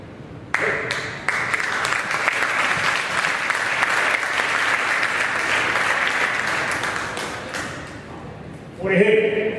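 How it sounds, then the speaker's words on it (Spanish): An audience claps after a speaker, dense applause starting abruptly and holding steady for several seconds, then a voice begins to speak as the clapping tails off. "Ustedes insisten en seguirme aplaudiendo"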